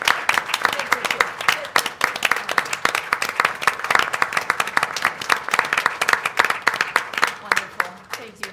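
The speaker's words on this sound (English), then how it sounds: "Give them a round of applause." An audience at a school board meeting applauds student athletes, brisk clapping from a modest-sized crowd, fairly close and loud, with some talk and cheering underneath.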